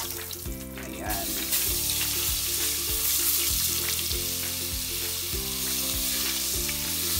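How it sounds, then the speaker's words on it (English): Onion and garlic sautéing in melted butter in a stew pan, a bright steady sizzle with stirring scrapes and background music throughout. "Igigisa natin ang sibuyas at ang bawang."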